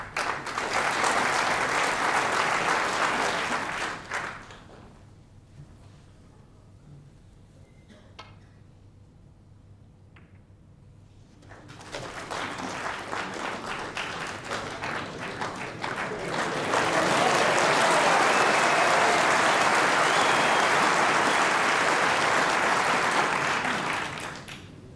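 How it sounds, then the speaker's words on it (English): Loud audience applause fills a snooker hall at the 1992 World Championship final, fading to a quiet lull mid-way, then swelling again into sustained clapping that continues to the end. "A lot of applause from our audience here"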